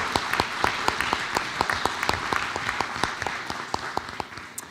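A school board meeting audience applauds a scholarship recipient who plans to become a teacher, a steady patter of individual claps from a modest crowd spread across the room, holding even throughout.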